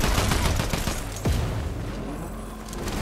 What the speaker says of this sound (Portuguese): Tamo tomando tiro de cima.